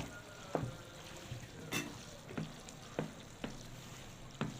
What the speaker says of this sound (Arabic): طبعا انا لسه بقلب يا جماعه في الصلصه